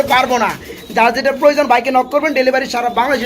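Blue and black pigeons coo in repeated, close, throaty bursts, mixed with a person talking nearby.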